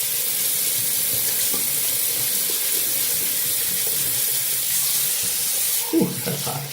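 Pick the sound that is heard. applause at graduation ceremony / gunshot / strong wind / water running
water running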